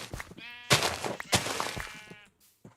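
Minecraft sheep bleat loudly in a couple of drawn-out, wavering calls, followed by a short faint bleat, close and clear with no talking over them.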